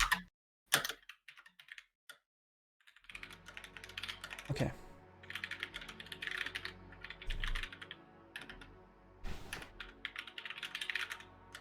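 Computer keyboard typing in quiet, uneven bursts of clicking keys, close and fairly soft, after a short spoken word and a few sharp isolated taps.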